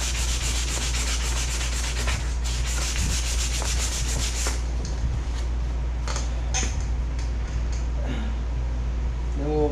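Sandpaper of 220 grit rubs back and forth across a 1989 Club Car DS golf cart fender, a steady close scraping that runs under a constant low hum, with some faint talk in the background.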